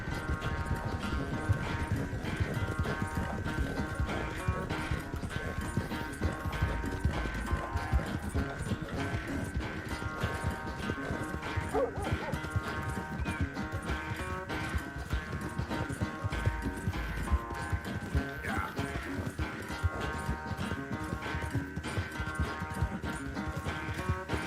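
Horse hooves clip-clop steadily through Red Dead Redemption 2 gameplay, a continuous quick rhythm of hoofbeats under a dense game soundscape, with a brief voice now and then.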